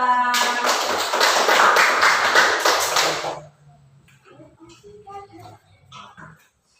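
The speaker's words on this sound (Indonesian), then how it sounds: "Tepuk tangan untuk kelompok 2" A classroom group applauds together for about three seconds, a loud, dense burst of clapping that stops abruptly, followed by quiet room noise and faint talk.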